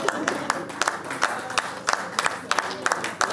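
Scattered, uneven hand claps from an audience at a French-speaking community awareness gathering, sharp separate slaps over a low murmur of crowd noise and voices.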